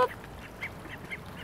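Ducklings quack faintly outdoors, several soft short calls spaced across a brief quiet moment with no talking.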